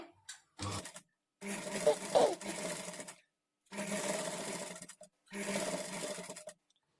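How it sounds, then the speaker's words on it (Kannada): A domestic sewing machine with a normal presser foot stitches invisible thread piping onto cloth, running in four bursts of steady whirring separated by short pauses, close and clear. "ಈ ಥ್ರೆಡ್ ಪಕ್ಕದಲ್ಲೇ ಸ್ಟಿಚ್ ಬೀಳೋ ಥರ ಸ್ಟಿಚ್ ಮಾಡ್ಕೊಳ್ತಾ ಬರಬೇಕು"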